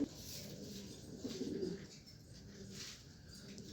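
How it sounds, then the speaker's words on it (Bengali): White racer pigeons coo softly and repeatedly, with a slightly fuller swell midway against a faint background murmur. No voices are heard. "এই হচ্ছে একটা হোয়াইট রেসার মাদি কবুতর।"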